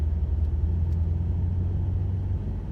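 A BMW M5 Competition on a track sends out a steady, close low engine rumble that stays even and strong throughout, with no voices over it.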